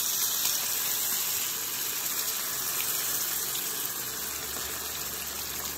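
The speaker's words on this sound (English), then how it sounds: "we're going to pour it over our fish" Sauce pours in a steady, gushing stream over fish cooking in a pan, a continuous liquid rush at moderate level with no talking.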